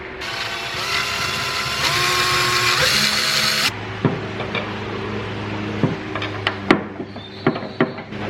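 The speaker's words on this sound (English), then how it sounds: "I got to drill a hole to get started," A power drill bores a hole into the body of a Tacoma truck, a loud steady whine for several seconds, then stopping into short bursts and clicks of handling and repositioning.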